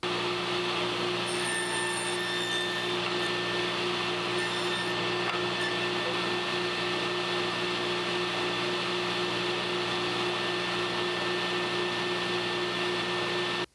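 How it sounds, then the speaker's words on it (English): Continuous whine of a power saw trimming the end of a wooden board for a miter joint, a steady loud mechanical drone holding for over ten seconds before cutting off abruptly, no voices. "The last cut that we'll make is to trim the end of this board until our miters fit"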